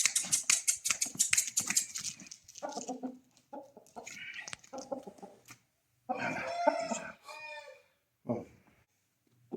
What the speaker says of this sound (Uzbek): Mana xo'rozimiz.